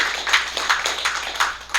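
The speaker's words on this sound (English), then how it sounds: "I reckon a bit of a round of applause for Ron" An audience at a Bay Area software defined radio meetup claps in a round of applause, a loose, close patter of hand claps with a few sharper peaks, steady over a couple of seconds with no talk.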